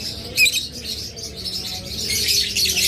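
A pet parrot whistles and chirps in bright, quick bursts, with one louder call near the start and busy twittering building toward the end over a faint background hum.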